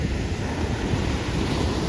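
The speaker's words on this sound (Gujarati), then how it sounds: "ઓલા મોજા આવે ને આમ જુઓ" Stormy wind driving waves across a lake: dense, unbroken surf wash and blustery wind noise close to the microphone, with no one speaking.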